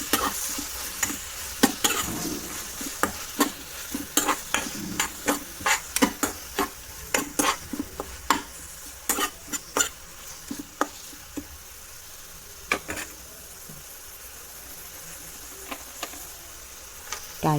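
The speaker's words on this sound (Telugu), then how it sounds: "ఆనియన్స్ ఫ్రై అయ్యాయి చూడండి" Onions fry with ginger garlic paste in a pan for masala rice, a steady close sizzle broken by frequent scraping taps of a spoon stirring, loud and busy throughout.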